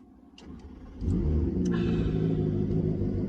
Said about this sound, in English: Twin turbo V8, love it.